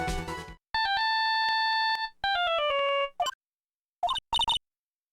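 Cell phone ringtone in the Phoenix Wright: Ace Attorney – Justice For All video game: a bright electronic melody of sustained beeping tones in a few phrases, separated by short pauses and ending with quick chirps, with no talking.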